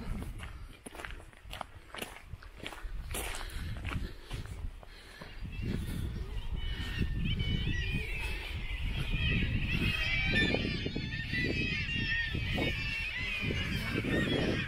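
Birds honk and call outdoors on a misty morning in northern Scotland, a continuous layered chorus with goose-like honks, alongside crunching footsteps and soft movement noise close by.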